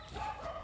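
A female dog of a strong, powerful guard breed gives a brief, fairly faint bark or two that is heard alone, without any talk.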